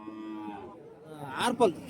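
A cow moos at the Kelamangalam cattle market, a single drawn-out low call that rises and breaks into a louder, harsher bellow near the end, fairly close over faint background voices.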